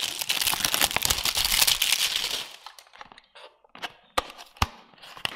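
Crinkly packaging around a NYKAA Naturals facial oil being opened up close, a loud continuous rustle that gives way to sparse, sharp crackles and taps.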